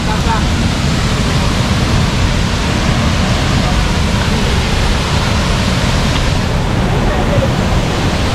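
Steady, loud broadband roar of Hulugan Falls in Luisiana, Laguna, continuous rushing water close to the microphone with no pauses, filling the whole scene.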